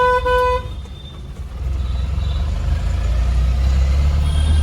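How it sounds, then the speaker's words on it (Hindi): Road traffic on a busy route crowded with cars, trucks and tractors, with a sharp car horn toot at the start and then a steady rumble of engines passing close by. "इस रास्ते पे ट्रैफिक ही ट्रैफिक है।"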